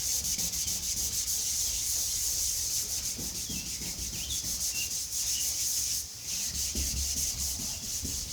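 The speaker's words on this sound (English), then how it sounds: "So what we did here was sanded some little pecker dents right here." Sanding small dents on a car body panel, a close, steady abrasive rasp of quick rhythmic back-and-forth strokes that continues almost without pause, dipping briefly once.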